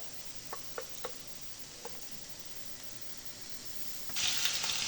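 Shrimp searing in butter in a frying pan, a steady close sizzle with a few small pops early on, then a louder burst of crackling frying near the end; no talking.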